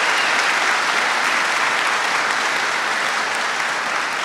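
Strong, continuous applause from a church congregation during a Catholic sermon, dense even clapping filling the space at steady volume from start to finish.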